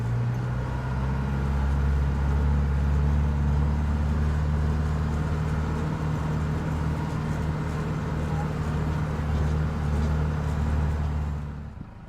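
An off-road vehicle climbs uphill in second gear on a mountain trail, its engine a steady low drone close by that holds throughout and fades off at the end.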